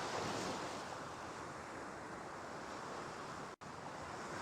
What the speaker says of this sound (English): Yeah, waves and everything.